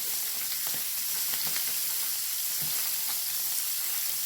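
Red kidney beans frying in a pan with green chilli, ginger, curry leaves and coconut, crackling in a steady sizzle with soft scraping stirs every second or so, close and continuous with no talk.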